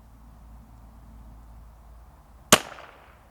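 A single rimfire rifle shot at a 150-yard target, one sharp crack with a short outdoor echo tail, heard alone against a faint low background hum.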